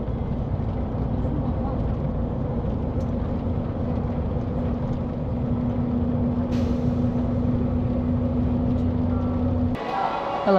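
A bus departs from a station in Kosovo at dawn, its engine a loud, continuous close rumble with a steady drone, ending in a sharp hiss of release.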